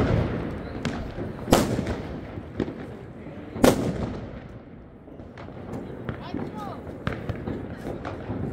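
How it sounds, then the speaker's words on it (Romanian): Fireworks burst at a New Year's celebration, with several sharp cracks and booms rising out of lively crowd noise, the two loudest explosions standing out near and strong. "am făcut și focul de artificii"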